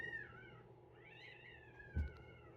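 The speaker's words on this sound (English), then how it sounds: "I think some of the outside cats are in heat." Outdoor cats in heat wail in long, wavering caterwauling meows, faint and distant, with a brief low thump near the end.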